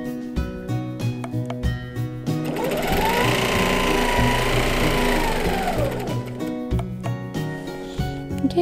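A quilting sewing machine doing ruler work stitches close by, starting and stopping in short bursts, then running in one sustained whirring hum for a few seconds before returning to brief pulses.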